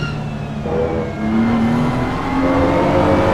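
Simulated GT3 race cars, a BMW and an Audi, on the Imola circuit in a racing video game, engines droning loud and steady with rising and falling pitch as the pack runs together.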